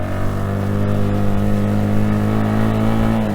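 A Bajaj Discover motorcycle climbing a mountain road, its engine revving loudly and steadily close by with a sustained droning hum that rises slightly in pitch as it pulls uphill in gear.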